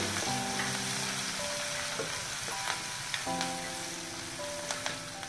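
Green chili and grated ginger sizzle in hot frying oil while a green fenugreek and plantain curry is being cooked, a steady close crackling fry with occasional stirring clinks.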